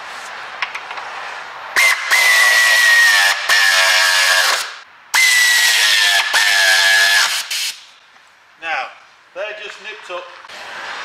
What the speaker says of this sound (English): the air tool I was using isn't very powerful, so it just kind of nips them